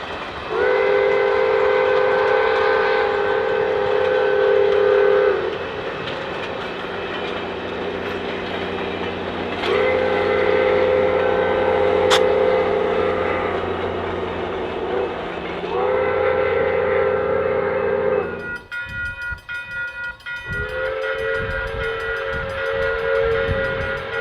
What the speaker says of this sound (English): The train almost beat us to this crossing